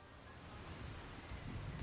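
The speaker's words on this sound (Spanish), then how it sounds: "Y empieza a llover justo después del combate." Steady broadband rainfall begins in the Pokémon Scarlet game world after a battle, a soft even hiss with low rumbling swells, moderately loud and alone.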